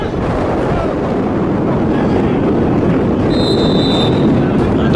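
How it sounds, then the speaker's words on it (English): Strong wind buffeting the microphone at an outdoor football cup final, a constant loud roaring rumble that fills the whole clip with no break. "seeing how windy it is"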